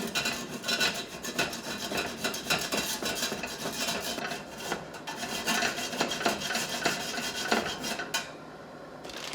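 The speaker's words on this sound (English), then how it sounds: "And I'm just gonna grate that." Small handheld grater rasping a frozen ingredient in a home kitchen while making vegetarian pad thai, a steady run of close, scratchy strokes throughout with no talking.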